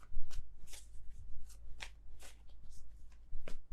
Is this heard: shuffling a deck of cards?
yes